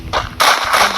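Gunfire in a mobile shooting video game: two loud, noisy bursts of shots, a shorter one near the start and a longer one right after, close and harsh with no talking.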